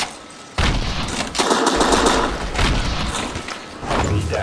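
Rapid gunfire in a shooter video game, with dense bursts of automatic fire over a continuous loud din.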